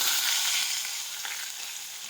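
Grated green chilies, ginger and curry leaves sizzle hard in hot oil for a tempered kadhi, a dense steady hiss that eases slightly over about two seconds, with no voices.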